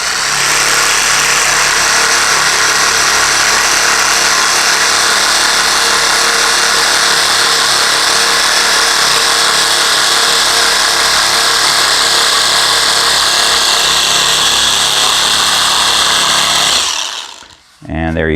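A 20 mm scraper sander fitted with 80 grit abrasive runs steadily, a loud, dense buzzing grind sustained without a break until it cuts off abruptly near the end.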